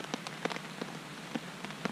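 Rain falls outside, with a steady hiss and scattered close drips tapping irregularly on a surface, fairly quiet, with no voices.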